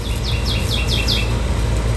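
A plump cuckoo perched in a tree beside a house repeats a series of five quick, high descending chirps in steady rhythm, fairly close and clear over a low outdoor rumble.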